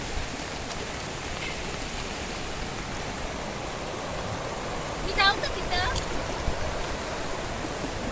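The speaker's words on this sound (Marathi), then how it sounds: "पाण्याचा प्रवाह खूपच जास्त आहे." Strong, heavy water flow rushes steadily at a dam in a busy tourist spot, a continuous broadband roar with brief clicks and faint background voices partway through.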